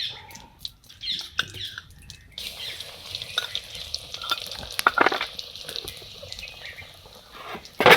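Ajwain seeds and garlic-chili paste hit hot oil in a pan while making Gujarati guvar dhokli curry, giving a close, steady sizzle with some crackling bursts.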